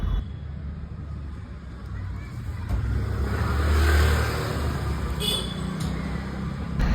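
Vehicle engine pulling away, with a moderate rumble that rises and swells midway before settling into a steady drone, heard from inside over faint background noise.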